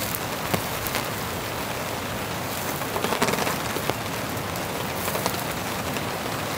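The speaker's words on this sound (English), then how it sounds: "it's really raining now" Heavy rain drums steadily on a tent, a dense hiss with scattered sharper drops popping throughout.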